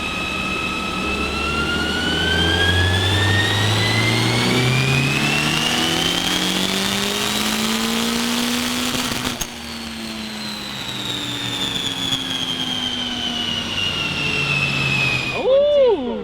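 A turbocharged B18 engine in a Honda Civic hatchback revs hard on a dyno, its pitch sweeping steadily up through a long pull, dropping off near nine seconds, then climbing again before a sharp whooshing release at the end.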